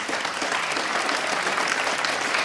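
Steady applause from a large live comedy audience fills the room, dense and continuous throughout with no talk over it.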